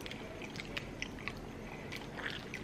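Biting into a Guzman y Gomez taco makes a series of soft, close crunches and chewing sounds, several small crisp snaps spread irregularly over a quiet room background, no talking.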